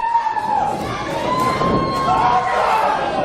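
A jam-packed wrestling crowd at the Stronghold cheers and shouts steadily, a dense roar of voices with a whistle-like tone running through it and a commentator talking over the noise.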